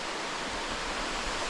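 Steady rushing roar of the waterfall at Fall Creek Falls, a broad, even wash of falling water with no other sounds over it.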